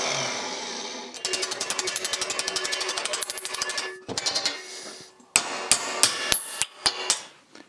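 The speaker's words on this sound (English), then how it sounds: "We still have to bend the flange on the back side here" Rapid, steady hammer blows ring on a steel flange of an old rusty chassis being bent, a fast even run of strikes, a short pause, then a slower series of loud, sharp, spaced hits.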